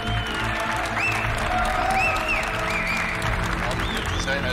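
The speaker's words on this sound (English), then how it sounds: "A big round of applause for our boss, Mr. Matthias Müller." Dense applause from a large crowd at a gathering in Stuttgart's Wagenhalle, steady and loud throughout, with a few faint tonal sounds passing over the clapping.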